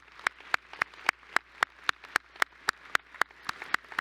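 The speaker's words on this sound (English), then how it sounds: "So if we could just say a big round of applause for all of them." Clapping at a university mathematics faculty graduation ceremony, sharp separate claps in a steady rhythm that sound like a single pair of hands close by rather than a full audience.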